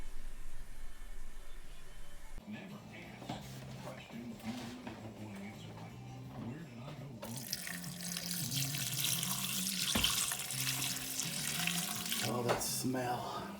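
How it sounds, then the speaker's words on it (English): Sink tap water runs as something is rinsed in a home kitchen, a steady splashing flow that grows stronger partway through, with faint talk nearby. "Rinse this real quick, sorry."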